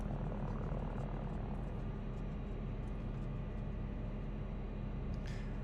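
Steady low helicopter rotor drone in Microsoft Flight Simulator, a continuous loud thrum with engine whine, holding evenly throughout with a brief hiss near the end.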